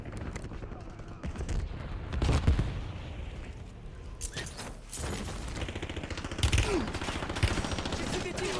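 Gunfire in the video game Warzone: dense, continuous bursts of shots and mechanical clatter, loud and near, running under game voices.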